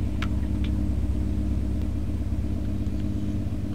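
Steady car engine rumble from a drifting game in Roblox, a continuous low drone held at an even level with no clear rev rise.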